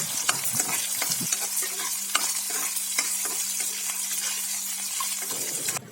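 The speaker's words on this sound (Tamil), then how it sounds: "கொஞ்சமாக வெங்காயம் ஸ்லைஸாக கட் பண்ண வெங்காயம் இதையும் சேர்த்து இது கூட நல்லா வதக்கிக்கலாம்" Sliced onions and garlic are sautéed in a pan for a kuzhambu curry. A loud, continuous sizzle and crackle of frying runs throughout, with scraping stir strokes of a utensil and no voices.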